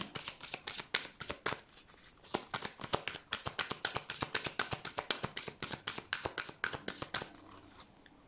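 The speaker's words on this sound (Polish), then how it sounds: "a ja już losuję dla Was karty z odpowiedziami na te Wasze pytania" Tarot cards being shuffled by hand, a rapid run of crisp riffling flicks repeating in bursts, close and clear, then a brief pause as a card is drawn.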